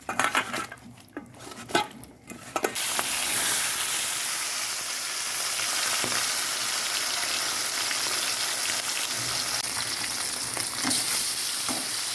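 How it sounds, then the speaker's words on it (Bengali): Katla fish frying in white oil in a kadai bursts into a loud, dense sizzle after a few clinks and handling noises, then crackles steadily up close. "এর উপরে মাছটা ভেজে নেব"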